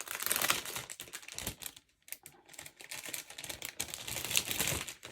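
Scrapbook supply packaging, plastic bags holding foam dots, crinkled and handled up close in steady, irregular bursts of crackling with a short lull in the middle.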